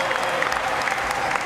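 Crowd applause and cheering for a competing skater at a skateboarding session final, a brief, steady burst of clapping and crowd noise.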